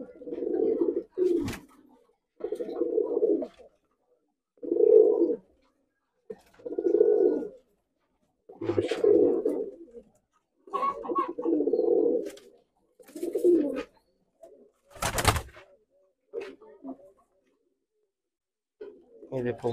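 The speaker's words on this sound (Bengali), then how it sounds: "মাশাআল্লাহ আমার নীলদুম্বা কবুতর" Nildumma pigeons coo in a series of low, rounded calls, roughly every two seconds, close by and fairly loud, with a sharp broadband clatter midway through.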